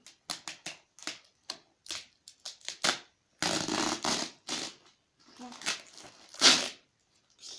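A plastic bag wrapping a parcel of boots is torn and pulled open in a series of sharp crinkling, ripping bursts, some quick and some longer.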